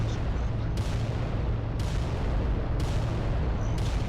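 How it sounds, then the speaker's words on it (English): A Bane Lord titan firing its cannons in the Adeptus Titanicus tabletop wargame adaptation, heard as a series of loud, heavy booms at roughly one-second intervals over a constant rumbling background. "Okay, Bane Lord is shooting."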